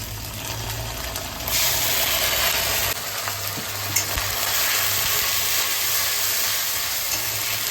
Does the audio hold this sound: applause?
no